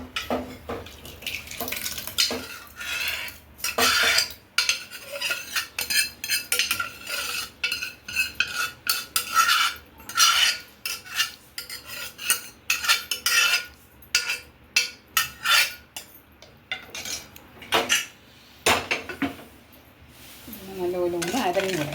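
Cooked dal for an Onam sadya parippu curry is poured and scraped into a small pot, with wet sloshes and repeated metal spoon clinks and stirring against the pot, loud and close, under intermittent talk.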